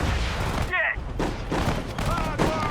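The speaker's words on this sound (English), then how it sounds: "Oh wow, artillery coming in." Artillery fire in the Sudden Strike 4 World War II strategy game, a rapid series of loud booming blasts in quick succession, with someone talking over the barrage.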